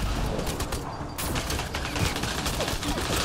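Sustained automatic gunfire and rattling weapon mechanisms from a combat scene in the sci-fi shooter Mass Effect: Andromeda, dense and continuous at a moderate level with no clear pauses.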